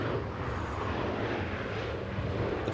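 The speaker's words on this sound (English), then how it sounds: "the flight from Johannesburg, the 777ER" A Boeing 777ER airliner arriving at Schiphol Airport in windy weather gives a steady, loud broadband jet roar that holds constant throughout, with no voices.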